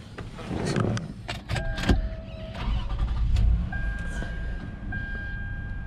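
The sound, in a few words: 2005 Lexus RX 330 engine starting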